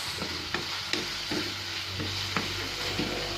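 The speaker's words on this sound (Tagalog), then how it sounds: "Muntik na pong masunog yung ginigisa kamatis" Tomatoes sauté in a pan close to burning, with a steady, close sizzle and the regular scrape of a spoon stirring about every half second.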